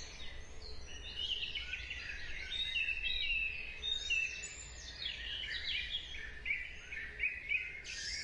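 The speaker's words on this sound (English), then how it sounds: "It is the dawn chorus, the burst of bird song right at the start of the day" Dawn chorus at sunrise beside water, many birds singing at once in a dense, continuous tangle of chirps and trills, moderately distant and steady throughout, with no voices.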